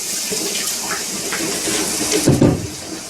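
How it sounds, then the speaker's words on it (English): Water trickles and splashes into a cooking pan during vegan meal preparation, a steady pour with a brief louder splash near the end and no talking. "And put in a little water, right?"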